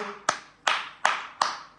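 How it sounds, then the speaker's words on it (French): Rhythmic clapping at a political rally in Côte d'Ivoire, five sharp, evenly spaced claps about once every 0.4 seconds, close and clear with nothing else heard. "On applaudit Tablé, Divo"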